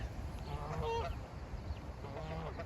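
Ducks resting in a crowded, droppings-covered pen give a few brief nasal quacks over a steady background hum, with no one talking.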